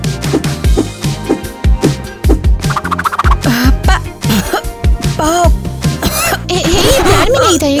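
A person coughs in a series of short, sharp bursts close to the mic, mixed in with voices and other busy background sound.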